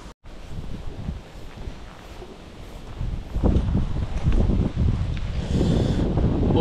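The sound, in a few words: strong wind outdoors while fishing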